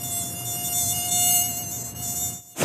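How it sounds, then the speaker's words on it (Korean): A high, steady mosquito whine drones on for a couple of seconds with no talk, then cuts out abruptly near the end, where a brief louder noise breaks in. "이때 들리는 모기 소리."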